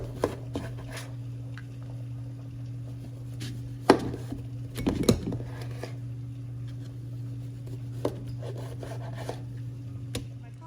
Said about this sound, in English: now we're just going to take our lemon and cut it into quarters